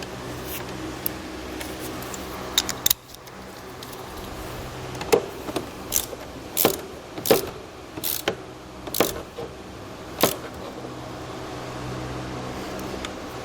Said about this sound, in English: you can simply just tighten that nut back down